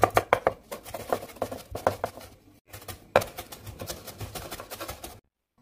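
Shallots minced with a knife on a cutting board for braised snakehead fish, rapid close chopping taps in quick uneven runs with a brief pause midway, then the sound stops.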